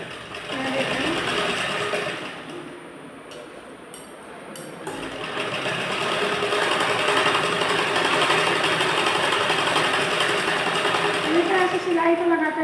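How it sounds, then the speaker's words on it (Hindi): Sewing machine stitching a blouse seam, a fast, steady mechanical whir that runs close and loud, pauses briefly near the start, then continues unbroken. "सिलाई को लगाकर इस लाइन को कंप्लीट करेंगे और इसी तरह से नीचे की लाइन को भी कंप्लीट करेंगे।"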